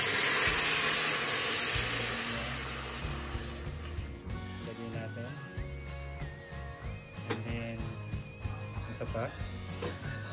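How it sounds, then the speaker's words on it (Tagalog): Coconut milk heating in a pot for ginataang bilo-bilo, with a loud steady hiss and bubbling at the start that eases into a quieter simmer, while people talk in the kitchen nearby. "Guys, kumukulo na yung gata."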